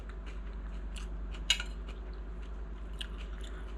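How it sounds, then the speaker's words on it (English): Someone eats coleslaw with bacon, giving soft, close crunchy bites and chewing in scattered irregular bursts over a low steady background hum, with no talking. "All right, let's try this coleslaw."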